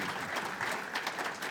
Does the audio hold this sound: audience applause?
yes